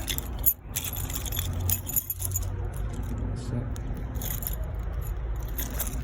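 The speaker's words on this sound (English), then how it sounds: "If I can get the key out of my pocket." Keys jangle and clink as they are pulled from a pocket at a caravan door with a Milenko lock, a metallic rustle over a steady low engine-like rumble, with brief voice sounds nearby.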